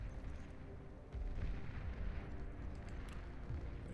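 Heavy plasma cannon blasts from a video game battle, a dense rumbling barrage of booming low-end bursts that jumps louder about a second in and keeps pounding steadily with no talk.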